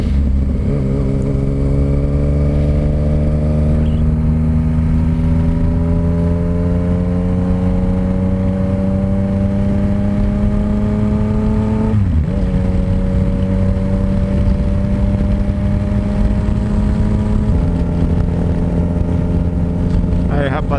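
A Yamaha Tracer 900 GT motorcycle engine drones steadily at cruising speed on a highway, its pitch slowly climbing, then dropping briefly twice as gears shift, with constant wind rush.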